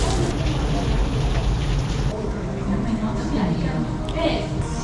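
Steady rain falls outdoors at a Mexican seaside resort near a pool, a dense broadband hiss that stays loud and continuous throughout.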